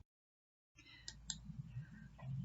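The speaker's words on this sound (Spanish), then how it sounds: "Hago un clic en la zona de gráficos" A couple of sharp, close computer mouse clicks after a moment of silence, with soft background room noise and faint activity following.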